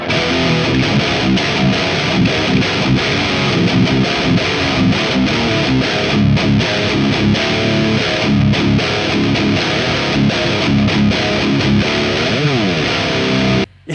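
Electric guitar played with heavy distortion through a Synergy amp fitted with an Uberschall module, a loud, dense, sustained crunch of chugging riffs and ringing chords that runs continuously and cuts off abruptly at the end.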